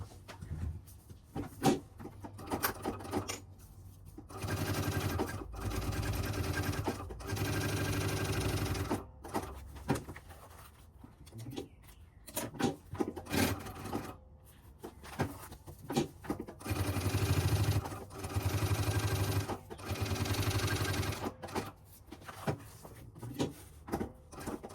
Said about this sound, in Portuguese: E agora eu vou passar uma costurinha por volta dessa toda.